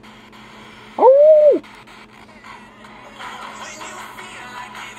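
A dog lets out a single short, loud rising-and-falling whimper, alone against a quiet radio hiss and faint background noise. A voice briefly exclaims.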